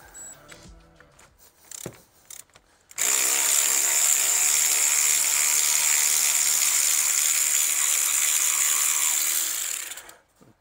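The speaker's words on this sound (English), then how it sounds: "You're going to need a 7mm Allen key to remove the retaining bolts." A steady, loud mechanical whirring runs for about seven seconds without a break as the 7mm Allen-head caliper retaining bolts, which also act as the caliper sliders, are removed from the front brakes of a Citroen C4 Picasso.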